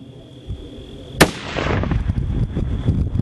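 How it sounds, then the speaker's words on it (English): A single sharp rifle shot fired outdoors at a 12-ounce bottle 100 yards away, a loud crack followed by a long rumbling echo that rolls on and fades over the next two seconds. "Let me shoot one more time."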